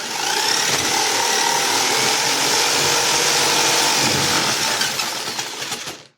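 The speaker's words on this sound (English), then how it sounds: "The thing about a jigsaw is you have to have stability as you're cutting." A jigsaw cuts through wood in a dense, continuous buzzing rasp, loud and close, holding steady for several seconds before winding down and stopping.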